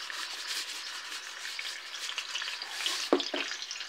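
Sea bream frying gently in hot oil over medium heat, a steady soft sizzle running throughout with a brief clatter near the end; no voices.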